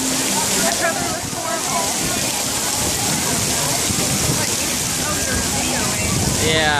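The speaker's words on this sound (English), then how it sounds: "smile at the Orlando rain" Heavy rain pours down at Disney's Tomorrowland in Orlando, a loud dense wash of falling water with splashing on surfaces, steady for several seconds.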